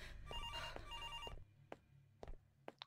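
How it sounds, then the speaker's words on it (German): A telephone rings inside the video game Araya, with repeated electronic bell bursts over a low background drone that end partway through, followed by a few isolated sharp knocks. "Oh, ich muss wieder ans Telefon gehen."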